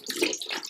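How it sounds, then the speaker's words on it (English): Warm water running into a spray bottle in a bathroom, a faint splashing, hissing stream that sounds close and continuous, with no voices. "I'm just going to fill it with some warm water"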